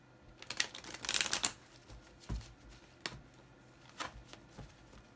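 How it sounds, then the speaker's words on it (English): Quick papery riffles and snaps of a tarot card deck being shuffled close by, one longer flurry followed by a few sparse taps. "so let's shuffle this deck up"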